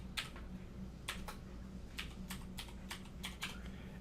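Keystrokes on a computer keyboard while a password is entered during a server login, about a dozen separate clicks in an irregular typing rhythm, close and fairly quiet over a steady low hum.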